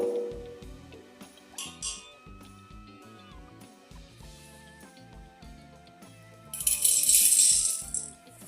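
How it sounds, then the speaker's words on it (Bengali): Soaked dal lentils tipped into a pressure cooker, heard as short bursts of granular rattling and pattering against metal, over a quiet background of tonal music. "এবার এই জলটাকে ফেলে দিয়ে ডালটা প্রেশার কুকারে নিয়ে নেবো"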